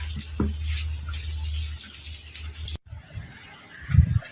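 Liquid organic fertilizer splashes and pours over chili plants from above, a steady trickling stream that cuts off abruptly, followed by softer drips and a low thump.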